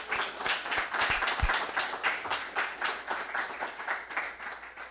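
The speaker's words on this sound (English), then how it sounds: "give them a round of applause" A graduation crowd applauds the instructors of an executive protection academy class with steady, rhythmic clapping from a modest group, fairly close and continuous throughout.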